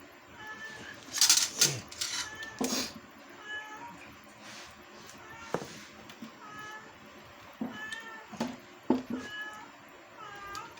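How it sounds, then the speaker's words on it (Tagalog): Several cats meow in turn, some short and high, others drawn out, scattered through the clip with quieter pauses between calls. "Iba-ibang pusa, iba-ibang meow."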